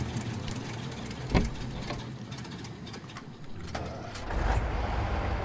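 A truck's engine idles steadily in Spintires: MudRunner, a low continuous rumble with a few clicks and knocks over it and a slight rise toward the end, with no talking.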